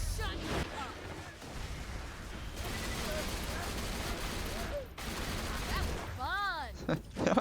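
Rapid gunfire from a first-person shooter, Borderlands 2, pouring bullets into a single enemy, a dense, continuous rattle of shots with game effects and chimes layered over it, loud throughout, with talk mixed in.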